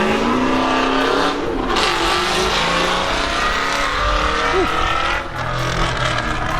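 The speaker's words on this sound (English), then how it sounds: "loud little Mustang there." A loud Ford Mustang drives past a shop with a throaty, revving roar that stays heavy and steady throughout, with a brief dip near the end.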